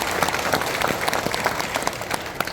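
An audience at a Buddhist temple ceremony breaks into dense, sustained applause, many hands clapping together in a close, even roar with no voices above it.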